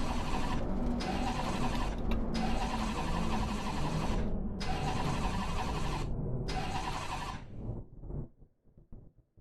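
A GT race car in Assetto Corsa Competizione cranks and roars with a dense, steady engine drone that cuts out briefly several times before fading into scattered sputters and silence.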